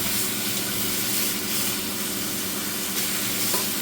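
Bacon sizzling and frying in a pan on an Emtronics induction hob, a dense, continuous crackling hiss at close range with no talking.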